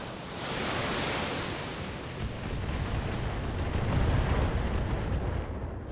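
A mech's ammunition exploding in the video game BattleTech: a loud sustained roaring blast of broadband noise that rises, holds for several seconds and slowly fades, with no speech.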